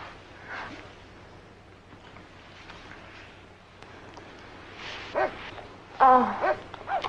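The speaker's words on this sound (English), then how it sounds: "The dogs are mad at me." Dogs bark and whimper in a film scene, with soft yips and whines rising near the end over a quiet room background.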